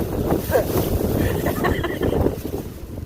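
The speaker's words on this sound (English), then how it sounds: "Is there a wind advisory today that I don't know about?" Strong, steady wind buffets the microphone beside the Tennessee River in Chattanooga, a loud continuous low rumble and roar with gusts that swell and ease over the whole stretch; no speech.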